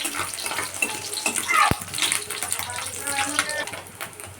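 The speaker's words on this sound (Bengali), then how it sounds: "এই মাছগুলো আমি ছেড়েছি, ভালো করে ভেজে নেব" Fish sizzling and frying in hot oil in a home kitchen, a continuous crackling hiss with bursts of spatter, close and fairly loud throughout.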